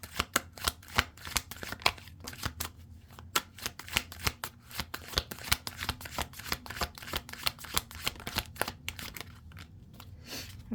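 Tarot cards being shuffled by hand, a rapid run of crisp riffling slaps and snaps in irregular bursts, close and clear with no voices.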